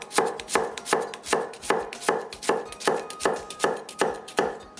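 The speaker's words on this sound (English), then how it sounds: "next finally dice your onion" A knife slices through onion on a cutting board in an even rhythm, about a dozen crisp close chops with brief pauses between strokes.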